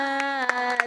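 Hands clapping at a night gathering after a funeral: three sharp, evenly spaced claps ring out over a steady sustained singing voice.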